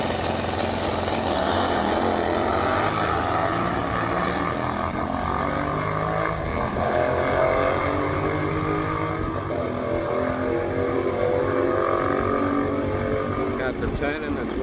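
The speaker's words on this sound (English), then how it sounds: "Big burnout." A drag racing motorcycle doing a burnout at Byron Dragway during an AMRA test and tune day, with a loud sustained engine roar that rises and falls in pitch, steady and close, ending with a brief clatter.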